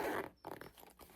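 Zipper on the pouch pocket of a Pawhuska Picasso leather bag made in Italy, a short, close, faint zipping rasp in two quick pulls.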